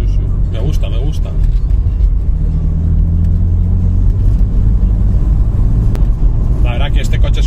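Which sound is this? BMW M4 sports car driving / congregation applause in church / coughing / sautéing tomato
BMW M4 sports car driving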